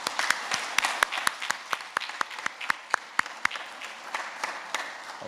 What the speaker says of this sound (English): So let's give the P7s one last round of applause.